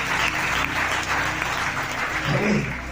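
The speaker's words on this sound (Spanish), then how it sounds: "Nos damos un fuerte aplauso a Cristo, hermano." A church congregation applauds during a Spanish-language sermon, a full sustained clapping across the whole stretch with a voice briefly rising above it near the end.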